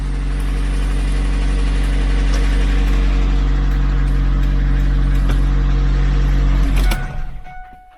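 A Kia Cerato engine, newly repaired after a relay fault in the turn-signal circuit, idles steadily and loud with a constant low hum for about seven seconds, then cuts off and the sound fades.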